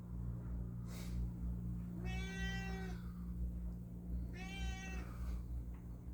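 A cat gives two drawn-out meows a couple of seconds apart, close by and clear over a steady low hum in an indoor room.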